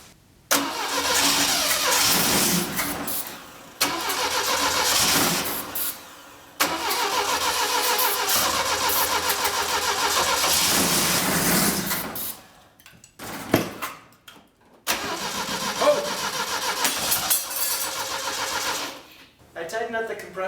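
An old Saab Sonett engine fed starting fluid through its carburetor cranks in several long bursts separated by pauses, catches briefly and revs, then cranks again, close to the microphone with brief voices.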